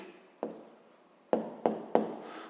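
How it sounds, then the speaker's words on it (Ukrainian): A pen writes down an answer to a fifth-grade maths problem on paper, giving a few short, close tapping strokes and scratches in a quiet room. "записуємо відповідь, пишемо відповідь."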